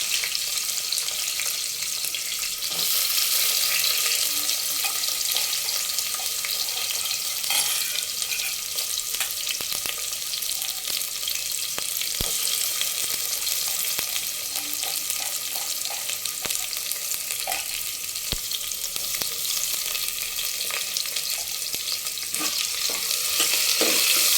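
Green chillies frying in hot oil in a pan before onions go in, a dense, loud, continuous sizzle close up with a few faint clicks, no voices over it.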